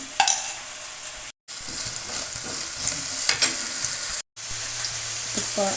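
Ghee and oil heating in a pan for pulao give a steady close hiss and sizzle with light stirring scrapes, briefly cutting out twice.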